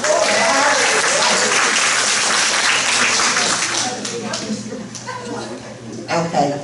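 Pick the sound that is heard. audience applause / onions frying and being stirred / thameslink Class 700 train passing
audience applause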